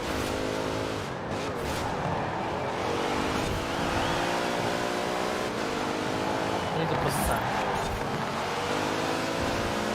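A race car in Forza Horizon 4 drives hard, its engine revving up and down through shifts in a loud, continuous growl, with a voice talking over it.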